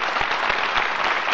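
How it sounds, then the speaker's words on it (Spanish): Brief burst of steady audience applause in a studio television program from 1990, even clapping throughout with no voices over it. "Un aplauso para él, por favor."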